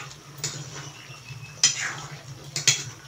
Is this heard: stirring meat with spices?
yes